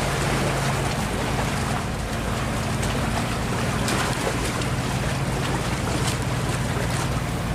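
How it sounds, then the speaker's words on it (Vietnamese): A Binh Thuan double-rig trawler fishing boat runs at high speed across open sea, its steady engine drone and low hull rumble mixed with continuous wind buffeting and rushing water, loud and unbroken throughout. "Ghe chạy vô chơi quá, mình để các bạn xem luôn nha."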